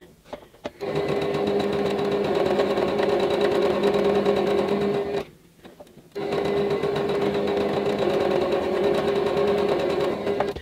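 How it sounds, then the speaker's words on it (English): A sewing machine stitches quilt block pieces for a tulip quilt in two steady runs of rapid whirring, separated by a brief pause near the middle, loud and close with no talk. "take these two and stitch the other side"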